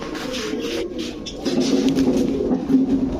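Kamargar, Rampuri, Kaldom and Gorra pigeons coo in low, throaty rolls at a pigeon sale, several birds murmuring nearby with the cooing growing fuller toward the end.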